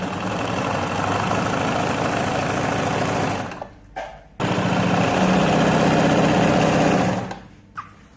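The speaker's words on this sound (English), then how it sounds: "So let's go to the sewing machine." Sewing machine stitching a sleeve onto fabric: a steady, fast mechanical whirr in two long runs split by a brief stop, then stopping near the end.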